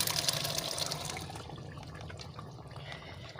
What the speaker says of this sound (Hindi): तो थोड़ा सा पानी डालेंगे ताकि ये गल जाए।